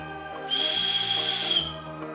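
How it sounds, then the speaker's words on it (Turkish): A toy whistle found in a surprise egg is blown once in a steady, shrill, high tone lasting about a second, clear and close over faint background music. "Bir düdük. Acaba üflesem mi? Evet, üflemeliyim bence."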